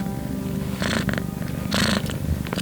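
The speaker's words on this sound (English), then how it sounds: "He's purring now." A pet cat, a male, purrs steadily and close by, a continuous low rumble with a couple of brief brighter bursts of noise over it.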